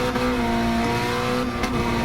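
A Honda Civic Type R FK8 screams at high revs around a racetrack in second gear, a loud sustained tonal engine note with slight pitch wobble and faint tire noise.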